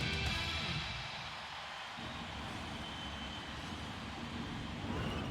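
Airplanes fly in the video game Civilization 6, a low, steady engine drone with a broad hiss held at an even level and no talk.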